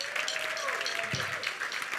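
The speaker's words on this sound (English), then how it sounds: "give yourselves a great round of applause" Steady audience applause at an animal shelter benefit show fills the room, a dense wash of clapping with some faint voices mixed in.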